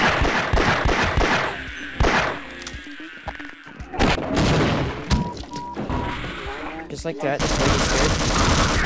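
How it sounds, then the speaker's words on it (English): Gunfire from the original Half-Life weapons in the video game Codename Loop, loud rapid bursts and single shots with crashes and thuds, dense throughout and mixed with game sounds while a person talks. "Now they do have the original gun sounds, so it's literally just Half-Life in Alien Swarm form."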